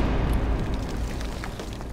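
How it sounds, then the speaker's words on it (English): Grenade explosion on the far side of a cave in Fallout: New Vegas, a heavy, rumbling boom that rolls on with a low reverberant tail. "That was a grenade going off on the other side of the cave"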